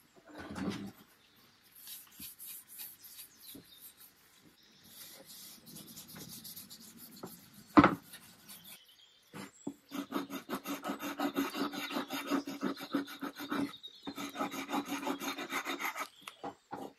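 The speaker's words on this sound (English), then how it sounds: "After removing the excess wood filler" Wood filler is rasped and scraped off an old wooden chair, about 200 years old, with repeated dry scratching strokes that build to a dense, rhythmic filing run, fairly quiet and close, with a sharp knock midway.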